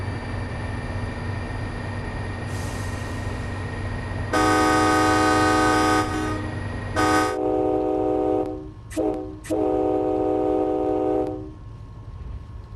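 MBTA commuter train departing in the Train Sim World game: a steady low engine rumble under a long drawn-out horn blast, then a few shorter horn sounds, a brief break and a final sustained blast.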